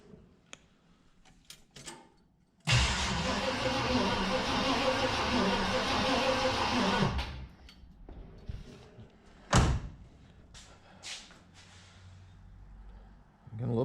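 1969 Chevy Nova engine cranking over on the starter during a compression test, a loud sustained whirring grind lasting several seconds, with scattered clicks and handling noises before and after.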